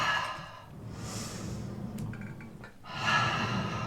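Long audible breaths during a beginner reformer Pilates exercise, a steady airy exhale followed by a stronger inhale-exhale near the end, close and alone with no talking.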